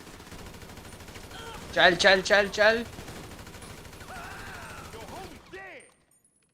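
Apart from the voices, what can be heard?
gunfire in video game GTA 5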